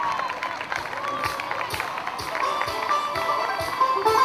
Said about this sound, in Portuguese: Uma salva de palmas ao Leonardo de Souza.